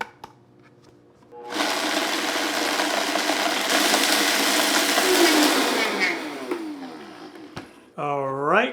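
A high-speed blender grinds about 70 grams of cocoa nibs into powder, giving a loud, steady, gritty whir for roughly five seconds before it winds down. A voice then speaks briefly.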